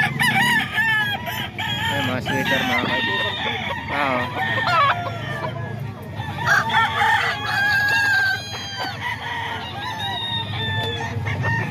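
Roosters crow repeatedly at a busy chicken market in Bocaue, with clucking fowl all around and someone talking over the loud, crowded birds.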